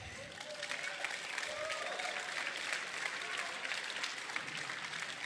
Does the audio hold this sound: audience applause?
yes